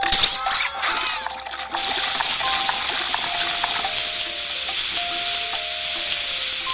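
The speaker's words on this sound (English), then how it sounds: "Yes, the frying pan is being heated." Loud, steady sizzling of crepe batter frying in a hot oiled pan, a continuous bright hiss after a brief clatter at the start.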